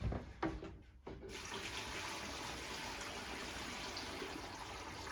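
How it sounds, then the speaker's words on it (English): Water is poured into a crawl space drainage pipe system, starting with a few uneven splashes and then settling into a steady, close rushing flow that fills the pipe, with no talking. "looks like our pipe's already filling with water halfway"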